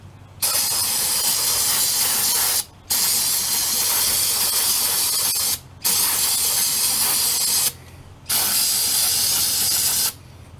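Four long bursts of aerosol spray hiss loudly and close onto a small engine carburetor, each lasting a couple of seconds, separated by brief pauses of quiet.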